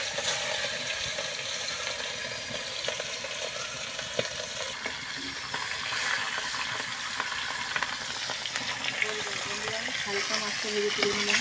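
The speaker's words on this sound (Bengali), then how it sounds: "ইলিশ মাছ ভাজা হচ্ছে।" Hilsa fish rubbed with salt and turmeric fries in hot oil, making a loud, dense, continuous sizzle with crackling spits and occasional scraping, heard close up.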